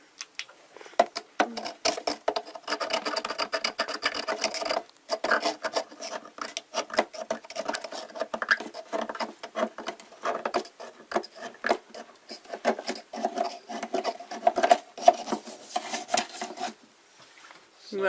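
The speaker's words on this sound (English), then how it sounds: "you don't want too many hours of scraping the thing" Rough, rasping scrapes repeat in uneven bursts as mineral deposits are scraped off a hot air humidifier, close and fairly steady, with brief pauses and a quick drop-off near the end.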